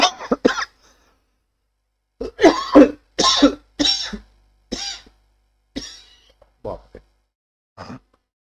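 A person coughs in a series of separate bursts with short gaps between them during a lecture, close and fairly loud in a quiet room.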